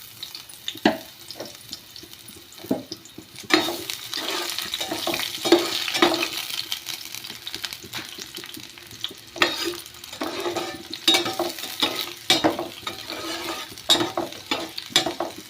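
Onions fry in a pan while being stirred for carrot rice, giving a continuous low sizzle broken by repeated scraping strokes and clatters of the spoon against the pan, with no voices.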